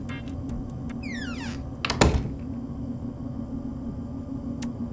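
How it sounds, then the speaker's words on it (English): A door slams shut in an otter detective video game, a single loud thunk at mid-clip over a steady low ambient hum, with a few faint clicks and sweeping tones before it. "That's the first door closed in our face."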